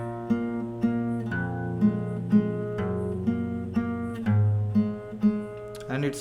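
Fingerstyle acoustic guitar plays a pattern, a repeating low bass note under plucked open treble strings in an even rhythm, close and moderately quiet with no voices.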